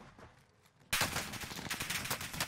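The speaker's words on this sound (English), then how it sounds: "I'm getting shot by two teams." Bursts of rapid gunfire erupt suddenly in Warzone after a quiet moment, loud and close, continuing in dense volleys as a player is shot at by two enemy teams.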